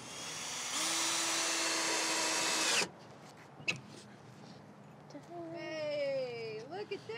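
A power drill drives screws to fix a hinge onto a vintage window frame for a greenhouse build, with a loud, close whir lasting about two seconds that cuts off abruptly, followed by a few clicks and a person talking.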